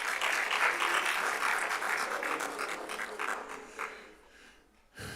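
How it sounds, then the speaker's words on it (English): Applause at an African public square experts meeting, a dense burst of clapping from the audience that gradually thins and fades over a few seconds, with a brief quiet gap before a last sound near the end. "Can you give him another round of applause?"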